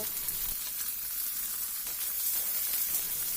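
Chopped onions hit hot oil with whole cumin seeds in a kadai, setting off a loud, steady, dense sizzle and hiss that holds close up throughout, with no talking.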